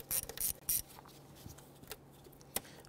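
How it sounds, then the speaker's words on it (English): An 8 mm socket on a ratchet loosens the hose clamp on the air intake tube to the throttle body of a 2008-2013 Infiniti G37 3.7L V6, giving three quick bursts of close, crisp ratchet clicking followed by scattered faint clicks and a final sharp tick. "Using an 8 millimeter socket, we're gonna loosen our hose clamp for our air intake tube to our throttle body."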